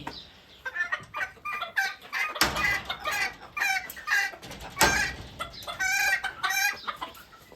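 Hens and young roosters cluck busily in a backyard poultry yard, a steady, fairly close chatter of overlapping calls with a few louder squawks and no talking.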